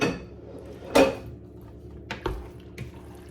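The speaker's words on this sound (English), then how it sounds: "So now I'm just going to give that a stir in." Sauce for a tuna and sweetcorn pasta bake being stirred in a pan, heard as a few sharp metallic clinks and scrapes of a utensil against the pan over a quiet background.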